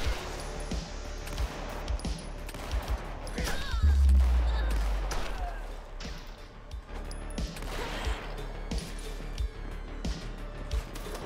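Gunshots ring out in the video game Esse Proxy: scattered sharp shots and bursts over a steady game backdrop, with a deep rumbling boom partway through.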